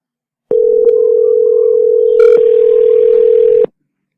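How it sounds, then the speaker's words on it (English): A loud, near telephone dial tone plays as a single steady hum for about three seconds while a contact is dialed through a RooR calling integration. The tone shifts briefly midway, then cuts off abruptly. "So here I'm dialing a contact from RooR,"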